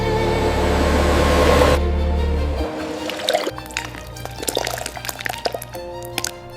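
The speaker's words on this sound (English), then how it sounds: "Composite flows into the mold, thickness precisely controlled." Seashell composite pours from a factory dispensing head into a mold as a steady rushing flow, then gives way to softer drips, trickles and wet splats among faint mechanical hum.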